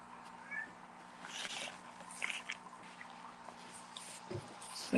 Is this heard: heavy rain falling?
no